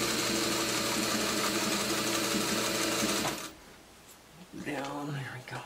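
A sewing machine runs steadily while back stitching a quilt, a fast even mechanical whir that stops abruptly, followed by brief quiet and light handling noises.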